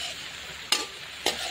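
A tomato, ginger, garlic and onion mixture frying in a pan, a low steady sizzle broken by two distinct scraping strokes of a spoon stirring it.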